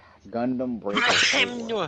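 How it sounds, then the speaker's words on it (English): One short, explosive human sneeze bursts out close to the microphone, wedged between stretches of someone talking. "That was a sneeze."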